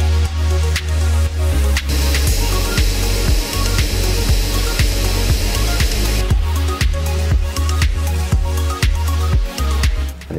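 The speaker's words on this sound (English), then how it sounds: "it's milling the cheek angles" A CNC machine mills cheek angles on a steel competition crankshaft, giving a loud, continuous cutting roar with a strong low hum and a steady run of regular tool strikes and ticks throughout.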